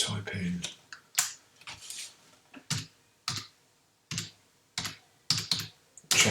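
Clacking keystrokes on a computer keyboard arrive in short uneven bursts with pauses between them, close and fairly quiet, and a voice speaks at times.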